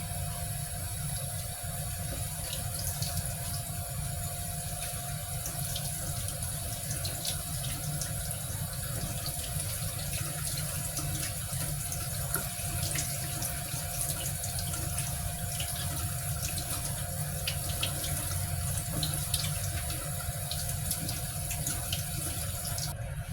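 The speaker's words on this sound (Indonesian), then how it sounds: "Dan ini tadi jagung mudanya kita cuci. sama rambutnya ya." Young corn being washed under a running kitchen tap, a steady close splash of water into the sink that continues without a break and with faint handling noises, no talk.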